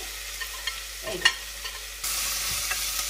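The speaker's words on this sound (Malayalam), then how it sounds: "ഞാനതൊന്ന് ഇളക്കി കൊടുത്തിട്ടുണ്ട്" Chopped onions frying in a pan for a Kerala-style duck curry, stirred with a quick scrape near the middle, then a steady, louder sizzle that fills the final second.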